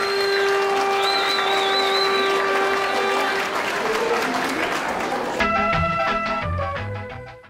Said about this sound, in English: Please give a round of applause for Nathan Brown in the blue corner